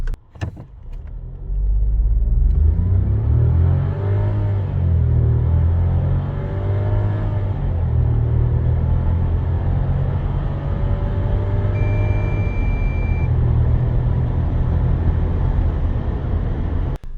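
A Volkswagen Polo 1.0 TSI 110 with a DSG gearbox accelerates hard toward 100 km/h, its engine droning loudly and rising through gear changes in a steady, continuous interior rumble.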